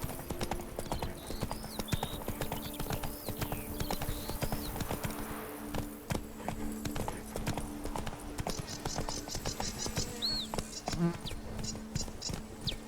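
Roach, the horse in The Witcher 3: Blood and Wine, gallops in a steady rapid clip-clop of hooves, joined by buzzing insects, birdsong and game music, with no talking.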